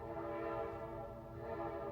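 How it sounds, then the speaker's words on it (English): A train horn sounds in a steady, sustained blast, distant and fairly faint, heard outside near a movie theater. "Where is there a train here?"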